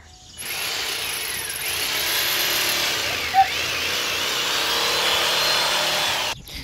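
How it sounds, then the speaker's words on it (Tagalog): A power saw cuts through 2x2 lumber and hardboard at a construction site, a loud continuous whine running nearly the whole time after a quiet start, with a brief click partway through. "ang bilis lang nila magputol ng mga 2x2, mga lawanit. Ayan o. Lagari siya."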